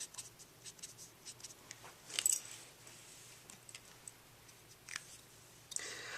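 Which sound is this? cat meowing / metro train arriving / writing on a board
writing on a board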